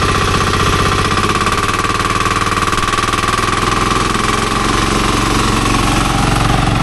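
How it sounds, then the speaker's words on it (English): Loud, steady electric motor drone of a battery-powered remote control mower with a rapid rattling vibration, running continuously close by without any pauses. "now you can see the motor's running but the belts aren't"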